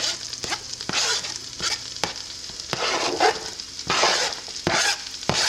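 A chopped small onion sizzles steadily in a pot while a spoon scrapes and stirs it in regular, sharp knocks against the sides; close and moderately loud, no talk.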